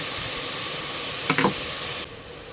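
Shrimp sauce juice poured into a hot pan for pancit palabok sizzles in a steady, loud hiss, with a brief stirring clatter midway before the sizzle drops off near the end.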